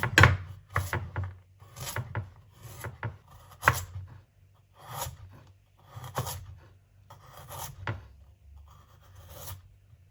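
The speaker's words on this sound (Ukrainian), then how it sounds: "Далі йде в нас морквина. Так само ріжемо кільцями." A knife slices a carrot into rings on a cutting board, giving irregular close taps and crunching cuts in small clusters without any talking.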